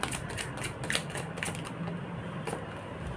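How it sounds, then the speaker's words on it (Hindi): Playing cards being shuffled, a rapid run of light ticking riffles and flicks close by with no talk over them. "देखो इतना टाइम हो गया शफल करते हुए"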